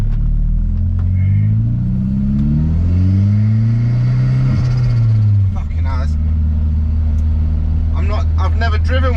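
A Toyota MR2 Mk3 with a swapped 1.8T engine pulls hard from inside the cabin, its deep engine drone rising and falling through gears as the turbo spools, then a voice speaks briefly over it near the end.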